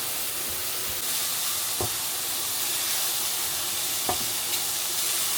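Steady sizzling hiss of onions frying in a pan, with a couple of brief clinks or stirs, no voices.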